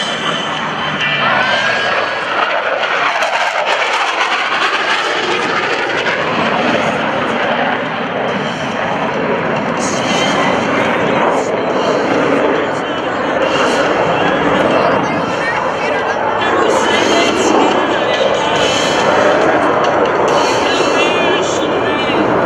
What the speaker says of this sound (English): This time to demonstrate the inverted flight capabilities of these FA-18s.